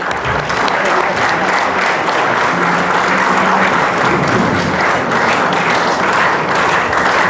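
Loud, sustained applause from a large audience at an Ethiopian television station's anniversary celebration, a thick continuous wash of clapping that holds steady from start to finish with no voices standing out.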